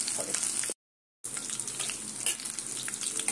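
Shrimp pakora with chopped potato fries in oil on low heat, making a close, continuous bubbling sizzle broken by one brief silent gap.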